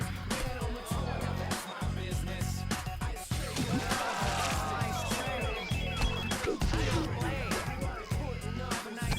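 A telephone rings repeatedly in the golf video game Outlaw Golf 2. The bell sounds in steady bursts under a game commentator's voice and background crowd noise.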